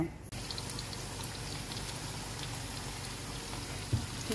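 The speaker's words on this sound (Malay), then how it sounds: "kita goreng bawang kita nak tuang atas sup kita tadi" Onions frying in a pan for a coconut-milk rice porridge soup give a dense, steady sizzle that holds evenly at close range from start to finish.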